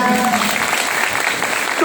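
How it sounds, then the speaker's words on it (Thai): An audience claps to encourage a woman who has recovered from a colon tumour, a brief burst of steady, dense applause filling the room with a voice heard faintly beneath it. "ปรบมือให้กำลังใจเธอหน่อยได้ไหม"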